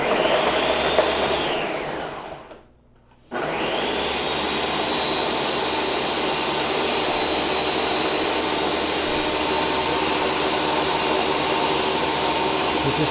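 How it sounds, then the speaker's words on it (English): A countertop blender whirring loudly and continuously on its smoothie setting with lemonade, cut off briefly by a short pause before the motor roars back at full, steady speed for the rest. "We're just watching a blender."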